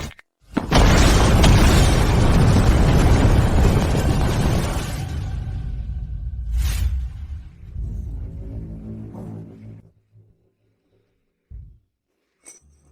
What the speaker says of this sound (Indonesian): Kembang api memicu ranjau sisa perang tahun lalu.